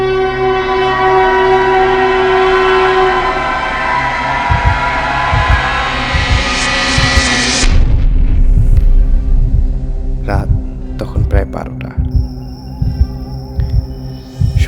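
Train sound effect for a Bengali horror story about the last train: a loud, sustained horn-like tone with a deep rumble that cuts off midway, then clattering rail noise and scattered metallic clanks.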